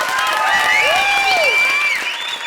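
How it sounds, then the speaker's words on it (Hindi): Studio audience applauding on the Indian TV comedy show Comedy Circus Ke Mahabali, steady and loud for the whole stretch, with tonal swooping music effects sweeping over the clapping. "जोरदार तालियां तीनों हीरोज के लिए।"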